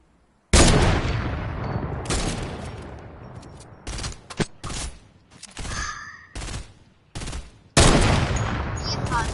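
Gunshots in the Snorkel Ops video game, loud bursts of fire broken into several separate blasts with short silent gaps between them.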